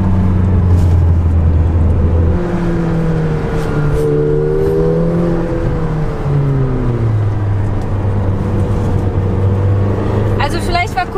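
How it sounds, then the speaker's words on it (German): McLaren GT with a 620 PS 4-litre twin-turbo V8 revving on a road near Barcelona, its engine note rising and falling in long sweeps, loud and close from inside the car while someone talks over it. "während ich den Motor hier so schön aufheulen lasse. 620 PS, 4 Liter V8 Biturbomotor."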